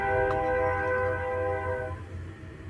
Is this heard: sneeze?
no